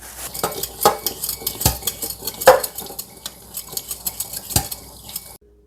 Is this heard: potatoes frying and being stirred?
yes